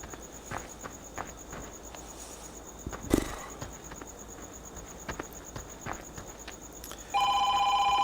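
A telephone in the farming video game Farming Simulator 15 starts ringing near the end with a steady electronic trill, following quiet ambient insect-like chirps and a few scattered thuds.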